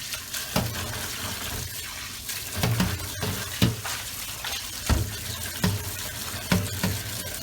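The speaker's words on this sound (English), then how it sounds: "immediately you run cold water" Cold water runs from a kitchen tap over blanched potatoes in a strainer, a steady close splashing rush broken by irregular thuds and clunks as the potatoes shift.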